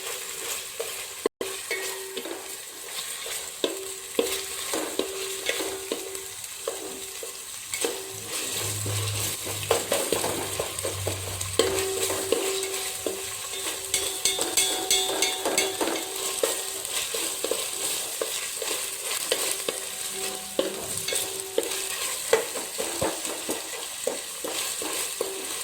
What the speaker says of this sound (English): Now let the ginger garlic paste be mixed with this onion and the spices that I have been already added.